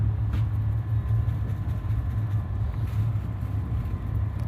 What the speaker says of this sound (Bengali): আমাদের ট্রেন কেবল ছাড়লো।